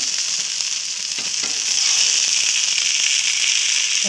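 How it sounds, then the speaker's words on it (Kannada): Bangude (mackerel) fish frying in a pan, a steady loud hiss and sizzle with scattered crackles that swells a little halfway through, no voices. "ನೋಡಿ ಈಗ ಇದು ಫ್ರೈ ಆಗ್ತಾ ಬಂತು, ಎರಡು ಮೂರು ಕಡೆ ಚೆಂದ ಮಾಡಿ ಕಾಯಿಸ್ತೀವಿ"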